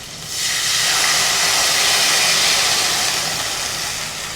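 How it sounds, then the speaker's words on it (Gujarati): Buttermilk hits a hot oil tempering for a Gujarati dhokli curry, setting off a sudden, loud steam hiss that swells after a short quiet start, holds steadily, then slowly eases, with no voices. "હવે આપણે આ છાશનો વઘાર કરવાનો છે"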